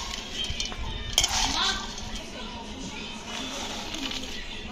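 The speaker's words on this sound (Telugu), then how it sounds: "ఇప్పుడు దొండకాయ ఫ్రై చేసి పెట్టుకున్నాం కదా, దానిలోకి ఈ మసాలా మొత్తం వేసి కలిపేద్దాం." Fried ivy gourd pakoda being tossed with masala in a pan, with utensils scraping and clinking against cookware throughout, while children's voices and chatter fill the background.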